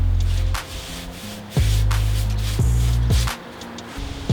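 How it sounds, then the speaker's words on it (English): A cheap paintbrush brushing timber stain onto wood, close-up and fairly loud, in long rubbing strokes broken by short pauses, with a low hum running underneath. "I tend to use really cheap paintbrushes to do this because they get really gummed up."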